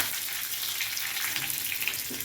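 Steady hissing sizzle of curry leaves frying in hot oil for a coriander mint chutney, continuous and fairly quiet, with faint crackles throughout.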